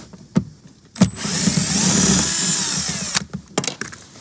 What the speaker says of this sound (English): I'm going to use my 10mm along with my power drill.